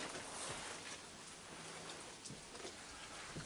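Heavy rain pours steadily outdoors, a dense, even hiss close by with scattered drips and splashes on surfaces, continuing alone without any voices.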